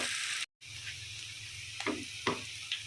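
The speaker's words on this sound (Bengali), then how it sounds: "এখন পেঁয়াজ কিছুক্ষণ ভেজে নেব লাইট গোল্ডেন করে পেঁয়াজটাকে ভেজে নেব" Sliced onions fry in a pan for a Bengali katla fish bhuna, giving a steady crackling sizzle with a few scraping stirs and a brief silent gap near the start.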